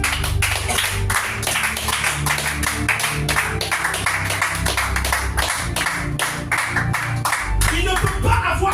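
Church congregation clapping in rhythm to acclaim the Lord during a revival meeting, steady repeated claps over a sustained musical backdrop with low bass tones throughout.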